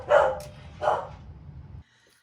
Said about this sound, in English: I apologize about the dog.